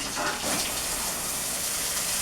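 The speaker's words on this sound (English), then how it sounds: "It sprays pretty good up inside that boiler," A forceful spray of water washing out the inside of a steam boiler roars continuously, a loud rushing hiss with no pauses.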